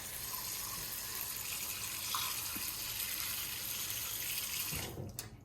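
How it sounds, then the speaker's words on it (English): Water runs steadily from a tap into a bowl in a kitchen, a soft continuous splashing stream that is fairly quiet and stops abruptly near the end. "put some water."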